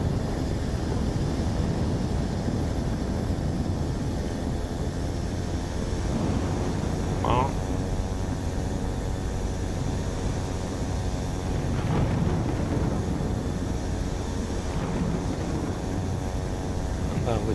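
A Black Square Caravan single-engine turboprop runs up to 1800 RPM in the flight simulator MSFS 2024, producing a steady, droning engine hum that holds even and continuous throughout.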